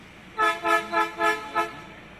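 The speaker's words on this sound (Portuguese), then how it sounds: "A cada passagem, o maquinista faz o alerta sonoro." Metro train horn sounding a warning at an unguarded level crossing in Teresina: five short, loud toots in quick succession, evenly spaced, with no other sounds around them.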